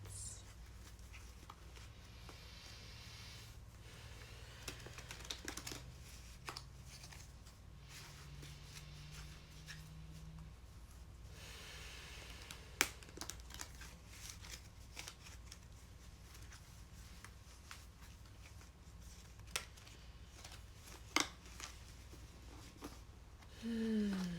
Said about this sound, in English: So I'm going to shuffle and take a few deep breaths.